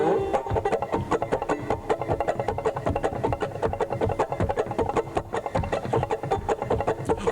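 Banjo at the 1990 Tennessee Banjo Institute imitating a steam drill: a fast, steady, percussive churn of picked notes, loud and continuous for about seven seconds with no talk.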